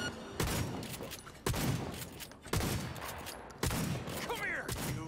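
Johnny's own gun fires in Cyberpunk 2077, four loud, sharp shots spaced about a second apart, each with a long, ringing echoing tail.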